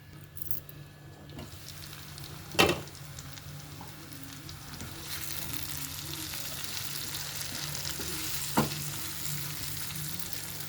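Brinjal pieces coated in masala fry in a pan, giving a continuous close sizzle that swells in the second half, with a couple of sharp scrape or clatter hits from stirring, no voices.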